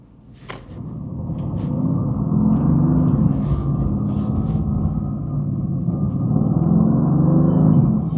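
A car rumbles through heavy traffic as it changes lanes, a steady low engine and road drone building after a brief quieter opening and holding close and loud, with no one speaking.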